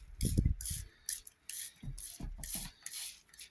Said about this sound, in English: I've got my coffee mixture, I put it in a spray bottle,